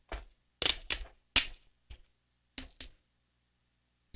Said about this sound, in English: Tear off about half inch piece of duct tape.